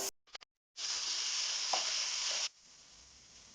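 Two finely chopped onions hit a hot pan for a chicken roast and sizzle loudly and steadily for nearly two seconds, then the hiss drops away to a faint background.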